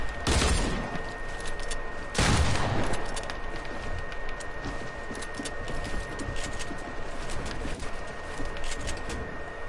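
Video game gunfire: two loud broadband bursts near the start, then a steady rattle of fainter shots and crackle running throughout, no talk.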